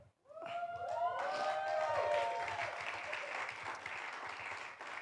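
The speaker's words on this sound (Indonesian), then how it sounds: "Nah, ini sorak-sorainya." A church congregation bursts into cheering and applause, starting with rising shouts and whoops, then sustained clapping and crowd noise for several seconds, fairly distant and evenly spread.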